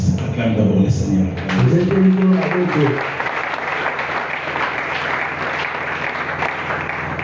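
Church congregation applauding at a French-language service, a steady wash of clapping that rises after a voice and sustains to the end.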